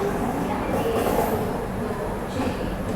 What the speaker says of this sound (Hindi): बिल्कुल डॉट ऑन टाइम अपनी बिलासपुर राजधानी निकल चुकी है यहाँ से